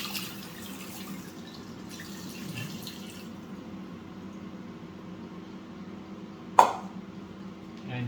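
Soaking water is drained off diced raw potatoes, giving a faint trickling and dripping over a low background hum, followed by a single sharp clack about two-thirds of the way through.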